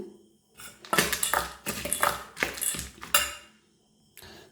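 Peanut salad tossed with chaat masala in a bowl gives a run of close, busy clinks and scrapes of utensils against the dish, several bursts in a row, then a short pause and one last brief rattle.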